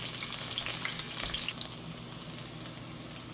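Chilies and garlic fry in a hot pan, making a soft, continuous sizzle with light crackling and a brief stirring scrape partway through, and no voices.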